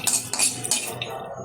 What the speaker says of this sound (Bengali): বেশ কিছুক্ষণ নেড়ে চেড়ে নেব।